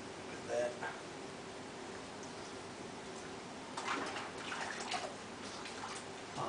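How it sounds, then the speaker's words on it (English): Hands being rinsed of soap under running water, a soft, fairly faint splashing and trickling that swells a few times, with brief bathroom noises and no talking. "I'm actually going to wash all that soap off my hands."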